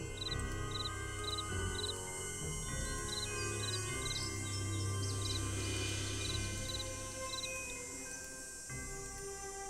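Bird chirping in the video game Nancy Drew: Ghost Dogs of Moon Lake: short, high, bright chirps in small groups of two or three, repeating through the clip over a steady game ambience and low hum.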